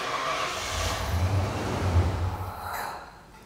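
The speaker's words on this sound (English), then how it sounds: "let's start the vehicle and we'll see how long it'll run for" A 37-year-old Ford Bronco with a failing TFI-IV ignition module cranks and catches, running with a rough, mid-level rumble for a few seconds before fading out as it shuts off.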